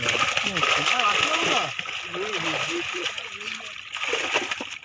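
A fish leaps and splashes in water, a few sharp splatters and sloshes close by with people talking over them.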